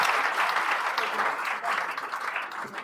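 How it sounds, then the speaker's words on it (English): Dense applause from a student audience honoring keynote speaker Ken Agyapong, a continuous roar of clapping that holds steady for a few seconds. "Another round of applause for our keynote speaker, Honorable Ken."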